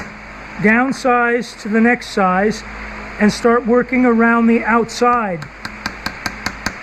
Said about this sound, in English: This is not wailing on it with your hammer. This is just soft tapping.